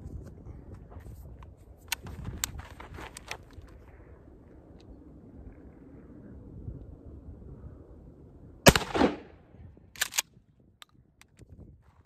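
Mossberg 590A1 short-barreled shotgun firing Federal 9-pellet 00 buckshot at 15 yards outdoors: one loud, sharp blast with a short echo tail, then a fainter second report, over soft ambient noise and light handling sounds.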